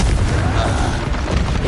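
A loud, close Confringo blasting spell explosion from the video game Hogwarts Legacy booms with a heavy, rumbling burst that fills the whole moment.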